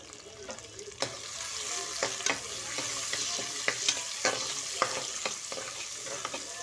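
Sliced big onions fry in a pan for rice upma, a steady sizzle broken by repeated scraping and clacking as a spoon stirs them, close and clear with no voices.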